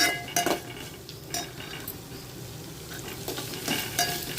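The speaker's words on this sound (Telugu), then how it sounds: "ఇట్లా ఉల్లిపాయ బాగా ఏగనివ్వాలి" Onions frying in a pan for a punarnava curry, a steady close sizzle with repeated scraping and clinking of a spoon stirring against the metal pan.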